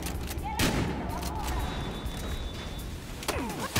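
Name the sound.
shotgun firing in Battlefield Hardline video game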